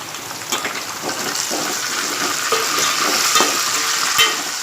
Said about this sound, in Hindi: इस प्याज को हम तेल के अंदर हल्की गोल्डन होने तक तलेंगे